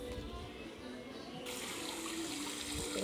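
Running water pours and splashes steadily to rinse soap foam off a toy, growing louder and brighter partway through, with faint voices in the background.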